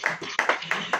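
A church congregation claps hands during a Hindi sermon, a run of broad, fairly loud claps with a few sharper peaks, close and filling the whole moment.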